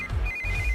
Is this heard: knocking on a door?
no